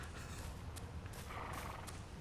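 Horses in a video game give off soft hoof clatter and faint whinnies under a steady background of game ambience. The sounds are quiet and blend into the noise with a few brief brighter bursts.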